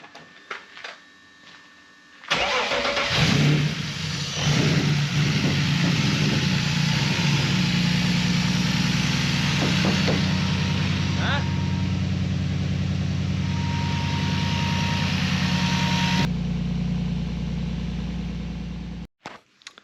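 A race car engine fires up for its first start after a quiet moment, then holds a loud, steady, close idle with a throbbing low rumble before cutting off abruptly near the end.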